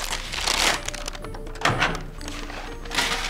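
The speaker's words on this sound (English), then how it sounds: "Fold it over twice." Stiff paper crinkles and thumps as a bag is folded over, with a couple of soft creases and taps close by.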